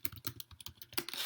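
Rapid typing on a computer keyboard, a quick run of light, close key clicks with a brief louder burst at the end, no voices.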